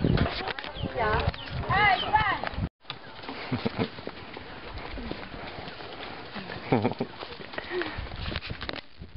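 Hooves clip-clop close by as travelers on horseback pass, mixed with outdoor noise and some birdsong in the background.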